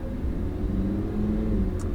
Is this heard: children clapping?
no